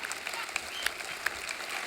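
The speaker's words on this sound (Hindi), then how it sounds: "एक बार जोरदार तालियां हो जाए" Studio audience applause on a comedy talk show after a dance crew's performance, fairly faint and steady, with a few sharper claps or whistles poking through.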